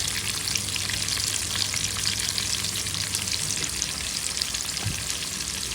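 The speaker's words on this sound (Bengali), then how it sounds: "দিয়ে দিলাম পেঁয়াজ, টমেটো, কাঁচামরিচ সব কিছু একসাথে দিয়ে দিলাম।" Onion, tomato and green chillies frying together in fish oil from hilsa, giving a dense, steady sizzle that runs unbroken throughout, close and fairly loud with no voices.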